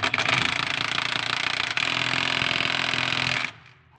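A 3/4 inch socket tool drives a bolt home during a 4L80 transmission install, a loud continuous mechanical whir with a brief dip midway, running steadily before cutting off abruptly near the end.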